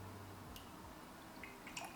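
Water drips into a glass of absinthe in quiet surroundings, giving a few soft, faint splashes and small plinks spaced across a short stretch with no talking.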